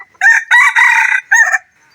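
A rooster crows loudly and close by: one full cock-a-doodle-doo in broken bursts, ending in silence, with no voices or other noise around it.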